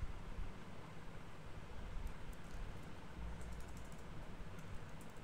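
Keys clattering on a computer keyboard while a simple Java program is typed, faint and rapid irregular clicks over a steady background hiss, with no voices.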